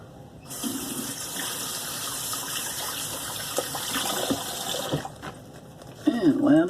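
Tap water runs steadily for about four and a half seconds to rewet a shaving brush, a close, even hiss that stops abruptly, followed by brief handling sounds and a short burst of voice.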